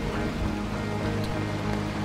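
Steady rain hisses and patters continuously in the video game Dying Light The Beast, a dense, even wash of sound with no voices over it.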